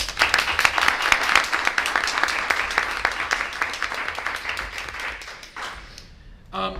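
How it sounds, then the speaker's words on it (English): An audience at a public board of education meeting applauds, a dense patter of many hands clapping for several seconds before thinning out and fading toward the end. "we just want to give her a big round of applause"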